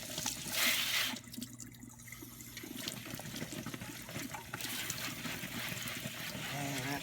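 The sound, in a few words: prickly pears rinsed under running water in a colander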